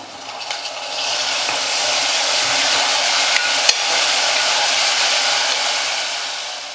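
Finely chopped tomato goes into a pan of sautéed onion, and a loud broad hissing sizzle rises and holds steady, with a few faint knocks and no voices.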